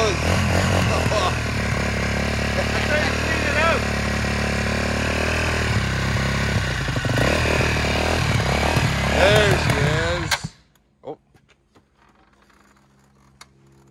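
A 2021 Ford F150 Platinum truck engine roars loud and rough during a burnout, revving and surging for about ten seconds before cutting off abruptly, leaving near silence with a few faint knocks.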